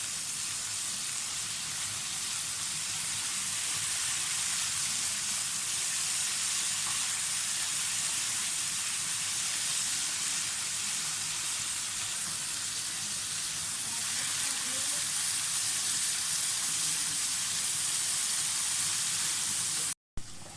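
Eggs frying in a pan for egg curry, giving a steady, even sizzle and hiss that runs throughout, ending in a brief cut.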